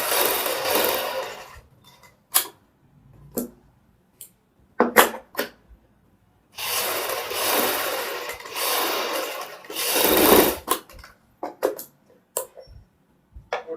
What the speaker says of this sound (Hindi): इधर भी हम सिलाई लगा लेते हैं दूसरी पत्ती में।